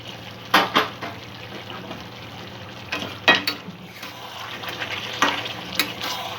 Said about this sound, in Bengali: আলুগুলো এবার এর সঙ্গে যোগ করে দেব